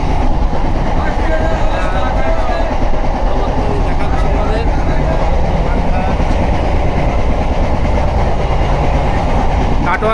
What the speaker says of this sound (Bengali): কাটোয়া ব্যান্ডেল লোকাল এটা এখন কাটোয়া স্টেশন ক্রস করছে